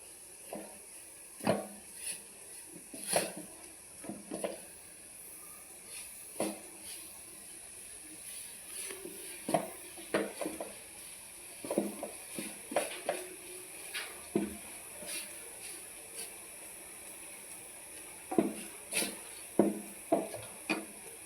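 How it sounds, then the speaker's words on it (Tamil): A spoon stirs a milk mixture in a pot on a stove, giving irregular soft scrapes and knocks against the metal, spaced a second or two apart over a quiet, steady background hum. "இப்போ அடுப்பில் ஏற்றி இப்படி நல்லா கிண்டணும்."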